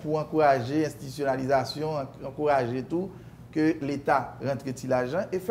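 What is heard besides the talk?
No everyday noises stand out.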